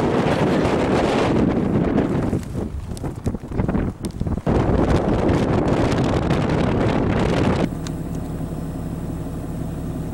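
Strong gusting wind buffets the microphone on a hilltop by the first-flight site in the Outer Banks, a loud continuous roar that dips briefly around the middle and settles into a steadier rush near the end.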